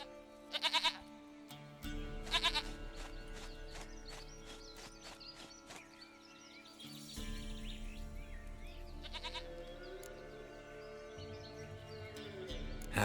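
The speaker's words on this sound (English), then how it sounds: "Goat of mine, dearest, sweetest goat." Goat bleats from The Witcher 3 game come in short, loud bursts near the start, again a couple of seconds later and once more further on, over steady game ambience and background music.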